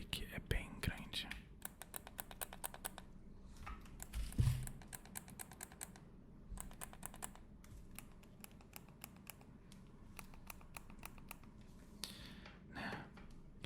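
Stiff, firm clicks of the Start, Select, L3 and R3 buttons on a PlayStation 3 controller, heard as close, crisp bursts of rapid taps with short pauses between, under soft whispering.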